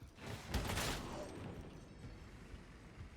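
A grenade detonates in the Warhammer 40,000: Darktide game, a broad blast burst early on that rolls off into sustained rumbling debris and combat noise, with voices mixed in.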